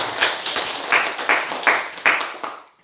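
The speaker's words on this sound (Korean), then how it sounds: "우리 큰 박수로 환영하겠습니다" A small church congregation claps a welcome in a short burst of steady, rhythmic hand claps, close and fairly loud, tapering off at the end.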